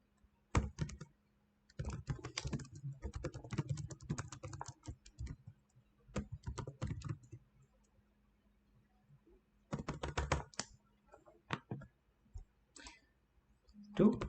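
Typing code on a computer keyboard produces clusters of quick, close clicking keystrokes in several bursts separated by short pauses, with steady light tapping and no clear talk over it.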